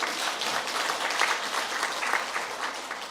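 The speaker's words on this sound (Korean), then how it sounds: "박수로 환영하겠습니다." A church congregation bursts into steady welcoming applause, a dense, even wash of many hands clapping indoors at moderate loudness, with no talk over it.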